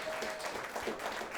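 Applause from an audience at a talk event, a steady, moderately quiet wash of clapping with no voices over it.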